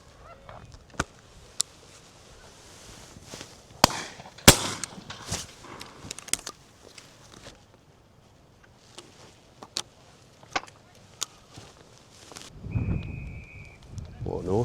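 Shotgun shots ring out at a driven pheasant and partridge shoot in the UK, several sharp distant reports scattered irregularly over a windy outdoor background, with people talking now and then.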